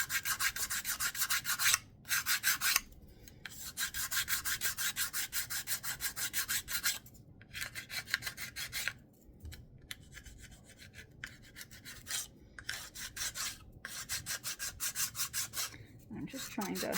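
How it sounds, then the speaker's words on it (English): Hand sanding or buffing of a handmade Christmas ornament with dried Mod Podge bumps: repeated close, scratchy rubbing strokes in bursts with short pauses, quiet and without talk. "I can kind of sand or buff them out so they're not quite as noticeable."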